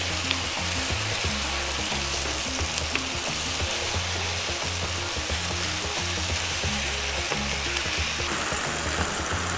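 Blue cheese, cream and sausage sizzle hard on high heat, a dense, steady close-up frying hiss that fills the whole stretch with no voices over it.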